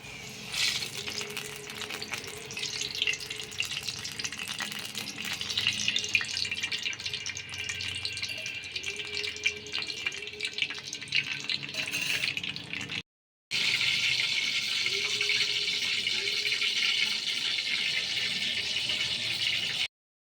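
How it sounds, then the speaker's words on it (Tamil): Steady hissing pour of cooking oil into a heated frying pan for frying fish, running for several seconds, briefly cut off and then resuming, close and fairly loud, with no talking. "மீன் பொரிக்கிறதுக்கு எண்ணெய் ஊற்றிக்கலாம்."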